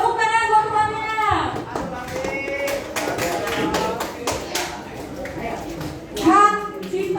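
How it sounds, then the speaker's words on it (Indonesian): Middle school students in an Indonesian classroom break into brief scattered hand clapping, with a child and a teacher speaking around the applause. "Tepuk tangan buat temannya."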